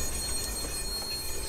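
A train in the Watch Dogs video game rumbles steadily, with a thin metallic wheel squeal running over the dense, continuous roar, and no talking.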